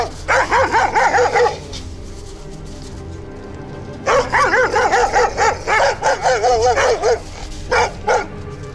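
Dogs confronting a metal-detecting digger outdoors bark in loud, rapid bursts, a long volley, a pause, then another run of close barks with a few yips trailing off.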